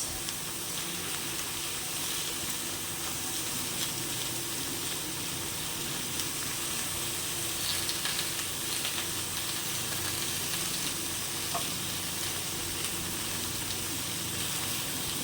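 A pot of greens with turmeric and salt simmers in boiling water with a steady low bubbling hiss, constant and fairly quiet, with faint occasional clinks in the background.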